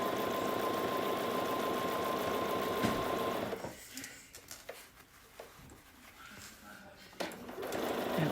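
Sewing machine stitching a quilt-as-you-go snowman tabletopper, running steadily and fairly close for about four seconds, then stopping into quieter handling noises before starting up again briefly at the end.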